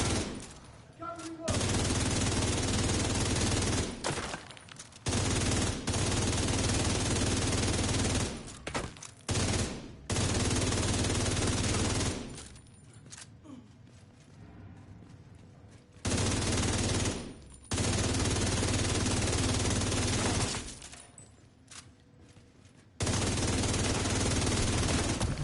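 Sniper fire in a video game comes as loud bursts of gunfire lasting several seconds each, separated by short quieter gaps, with dense, continuous shooting noise throughout.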